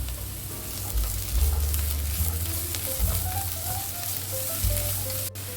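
Carrots and beans sauté in a pan for green rice, making a continuous even sizzle with occasional faint stirring sounds, close and fairly loud.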